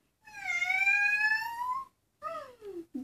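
A person imitates a cat with one long, drawn-out meow, followed by two shorter meow-like sounds, loud and close.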